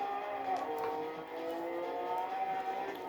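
A car engine in the Gran Turismo 7 racing game, heard from the cockpit view, holds a steady, sustained drone with a slightly rising pitch, loud and continuous for a few seconds with no talking.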